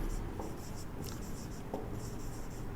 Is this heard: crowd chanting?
no